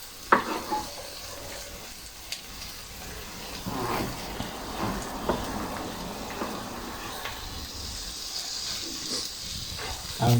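Onion and garlic sizzle in a pan with soft, steady frying hiss and occasional stirring clicks and scrapes, fairly quiet and close.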